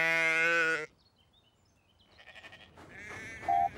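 Cartoon sheep bleat in a loud, harmonic-rich cry at the start, then it goes quiet, with later fainter tonal animal calls and a brief high whistle-like note near the end.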